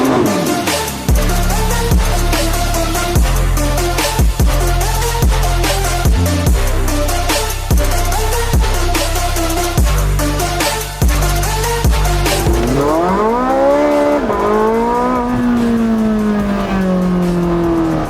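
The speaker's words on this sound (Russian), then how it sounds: "Вот так едет, вот так звучит, вот такие эмоции дарит актуальный гиперкар от Porsche 918 Spider" A Porsche 918 Spyder hypercar runs loud and close, its engine holding steady through repeated gear changes before rising into a sweeping revving climb near the end, with no talking.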